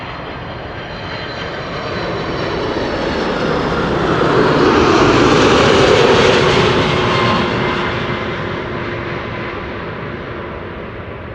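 An Atlas Air Boeing 747 landing at Amsterdam Schiphol builds into a broad, loud roar of reverse thrust that swells to a peak midway and then slowly fades, heard from a distance with no talking.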